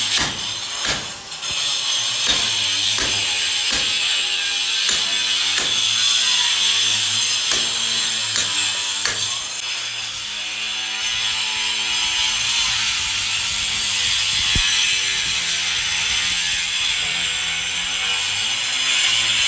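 A wall cutter chases grooves into a wall in a new house to run AC pipes, a continuous harsh grinding drone with rhythmic clicking, loud and steady throughout.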